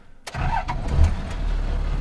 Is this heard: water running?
no